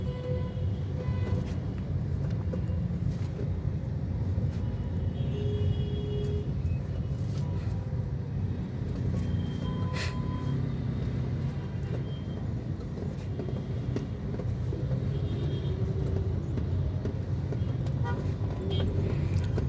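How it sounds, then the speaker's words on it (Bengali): Busy road traffic with engines rumbling continuously and several car horns tooting at intervals, a congested street scene without clear talk. "রাস্তার জ্যাম সকালে এরকমই থাকে।"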